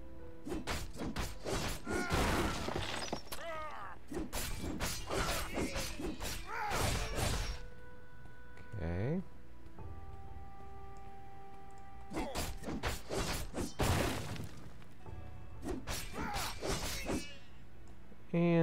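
Wooden palisades smashed in the action RPG Devilian, several loud clustered crashes and thuds with whooshing strikes, separated by quieter gaps with faint game tones.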